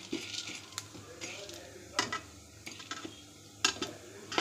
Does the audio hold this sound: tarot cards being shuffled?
no